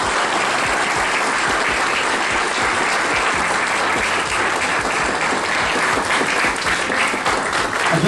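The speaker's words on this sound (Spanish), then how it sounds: "hagamos la primera manifestación de afecto con un aplauso" An audience at a book presentation in Mexico applauds warmly, a dense, sustained wall of many hands clapping at steady loudness throughout.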